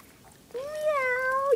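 A single drawn-out cat meow, clear and close, rising slightly then falling at the end, following a brief quiet moment.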